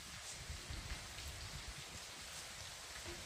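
Heavy rain falls steadily at Redani in Indapur, Pune district, a dense, constant wash of drops on surfaces with no breaks and no voices.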